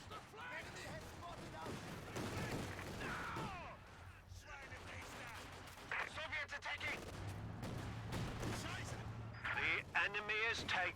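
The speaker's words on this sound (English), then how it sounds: "But another burst of the MG will secure the point in favor of the grenadiers." Machine gun bursts and other gunfire crackle through a Company of Heroes 2 tournament match between infantry units, with repeated rattling volleys and explosions beneath steady commentary.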